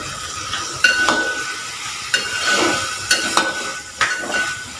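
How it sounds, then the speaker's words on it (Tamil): A spoon stirs chickpea roast masala with salt in a pan, soft scraping strokes repeating about once a second over a steady sizzling hiss, close and moderately loud. "உப்பு சேர்த்துட்டு நல்லா மிக்ஸ் பண்ணி எடுத்துக்கிறோம்"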